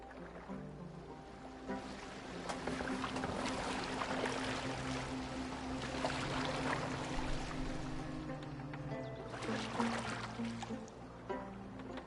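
A boat is rowed across open water in Assassin's Creed Valhalla. Soft, rhythmic splashes and lapping water run steadily for several seconds, with the wash swelling at times.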